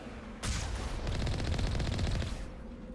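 A sustained burst of rapid automatic fire in Mass Effect rattles for about two seconds after an abrupt start, loud and continuous, then cuts off.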